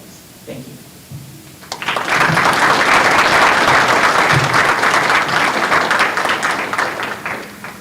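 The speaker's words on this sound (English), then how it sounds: "please give one more round of applause for our keynote speaker" After a brief quiet moment with faint voices, a ceremony audience bursts into loud, sustained applause for a keynote speaker, many hands clapping steadily before tapering slightly.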